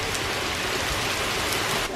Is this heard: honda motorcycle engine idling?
no